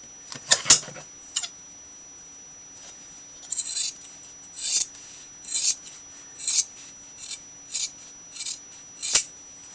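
Scissors cutting seam binding in a series of short, crisp snips, about a dozen close bursts spaced at a steady rhythm with quiet gaps between, no voices.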